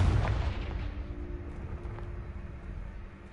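Confringo fire spell blasting apart a blocking pile in Hogwarts Legacy, one loud booming explosion at the start that rumbles and fades away over a few seconds, heard alone.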